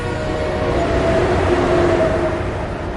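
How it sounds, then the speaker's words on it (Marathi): A fast train rushing past a railway station platform, a loud steady rolling roar with faint tonal whine, sustained throughout the three seconds with no talk. "काही वेळाने एक फास्ट ट्रेन पास झाली"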